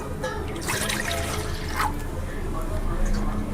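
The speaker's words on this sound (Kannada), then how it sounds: "ನೀರು ಹಾಕೊಳ್ಳೋದು" Water splashes and trickles into a pot of ground coconut-tomato masala for fish sambar at close range, a steady liquid pour with background noise throughout.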